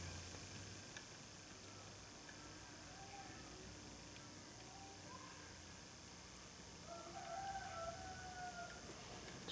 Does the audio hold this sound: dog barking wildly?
no